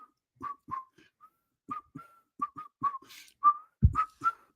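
A person whistles a short, halting tune in repeated bright notes with small gaps, close and clear, and a brief low thump near the end.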